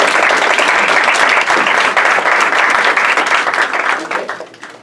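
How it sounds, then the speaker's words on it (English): A large audience at a live show breaks into loud, dense applause with many hands clapping at once, sustained steadily before tapering off near the end, with no talking over it. "Everybody give Ruby a nice round of applause."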